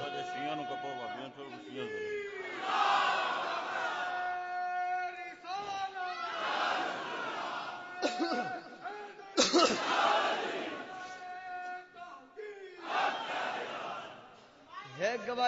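A large gathering at a Sunni religious sermon shouts slogans in repeated loud bursts, each call rising and fading, with the speaker's voice in between.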